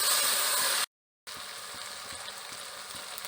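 Minced meat sautéing in ginger garlic paste sizzles with a steady bright hiss, cut by a brief total silence, then continues more quietly with soft stirring taps.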